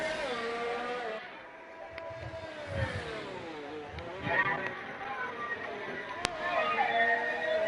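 F1-style race cars out on circuit during qualifying in a racing game at Canada: high-pitched engines whine and shift pitch as cars pass, layered engine tones rising and falling, with a voice talking over it.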